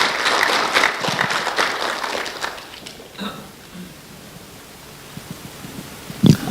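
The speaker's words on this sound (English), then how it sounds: "So round of applause for Haley." An award event audience in Toronto, Canada bursts into loud applause at the start, then it thins out to a quiet room with faint rustling and a brief sharp knock near the end.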